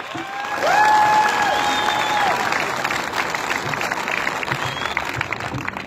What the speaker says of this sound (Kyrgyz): ошол Райымбек Матраимовго бир кол чабып коюңуздар